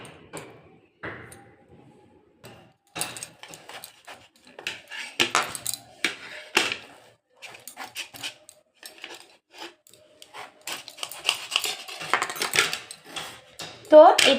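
A knife cuts through a watermelon on a kitchen surface, giving irregular sharp clicks, taps and scraping knocks close by, sparse at first and then busier and louder toward the end.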